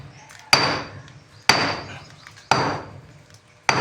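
Four loud, sharp hammer blows strike a door frame at a steady pace of about one per second, each crack ringing briefly before the next as the frame is broken apart.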